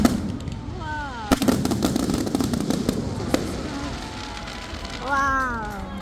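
Fireworks burst repeatedly in a sharp, irregular series of loud cracks and booms, some nearby and some farther off, under a steady crowd murmur, with whistling shells rising near the start and again at the end.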